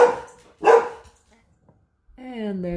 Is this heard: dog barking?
yes